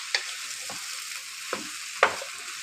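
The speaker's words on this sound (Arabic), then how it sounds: "وهقلبها كده في اللحمه بتاعتي اهوت. ايدي شغاله على طول، يعني انا ايدي شغاله على طول في الحله بتاعتي" Okra being stirred into meat in a cooking pot, a few distinct scraping, clattering strokes about half a second apart over a steady background hiss.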